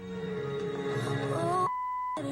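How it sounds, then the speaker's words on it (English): A single steady electronic confirmation beep from a car stereo in a 1970 Challenger, lasting about half a second, cuts through as background music briefly drops out, then the music resumes. "when it times out, it's going to give me 1 beep"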